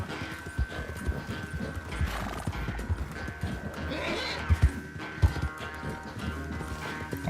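Horse galloping with repeated neighs in Red Dead Redemption 2: a steady, close run of hoof thuds with louder stamps near the end, whinnies rising over them and no talk.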